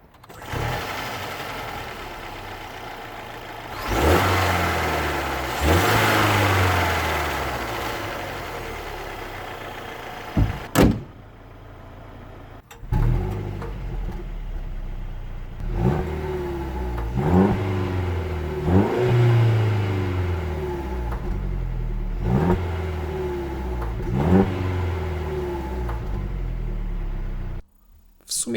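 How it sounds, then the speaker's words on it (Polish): A Mercedes E 300 Coupe C238 with a 2.0 turbo petrol four-cylinder rated 258 hp revs repeatedly, close by, rising and falling in several throttle blips with a brief pause midway and exhaust note throughout. "Posłuchajmy serducha oraz wydechu."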